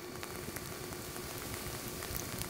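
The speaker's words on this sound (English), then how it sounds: "here we have a pan with oil in it for frying our fritters" Banana fritters frying in a pan of oil, a quiet steady crackle and bubbling sizzle with faint pops throughout.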